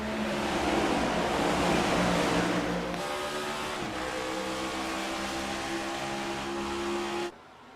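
An iRacing ICON Cup field at Chicagoland accelerates at a green-flag restart: a loud, close roar of several engines with steady droning pitch that shifts midway and then cuts off abruptly just before the end.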